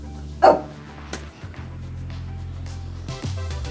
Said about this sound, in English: Got the puppies barking, everybody's upset here